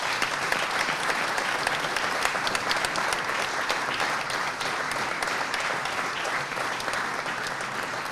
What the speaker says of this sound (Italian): Vorrei un grandissimo